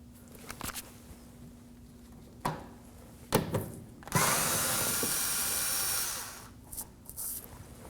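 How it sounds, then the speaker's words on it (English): Electric screwdriver backing out Phillips screws from the inner fender well of a 2014-2020 Acura MDX: a few short whirring bursts, then one longer sustained whir of about two seconds, close and clear with no talk. "In this case, I'm using an electric screwdriver."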